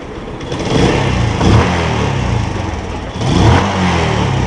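A Yamaha Spark 135 motorcycle with a stock exhaust revs twice in quick bursts, rising and falling over a rumbling idle, loud and close with no talking.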